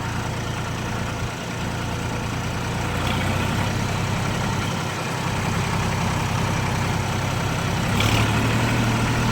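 A tractor engine runs steadily at close range in a rural village setting, a continuous low rumble and throb holding even loudness throughout with no speech over it.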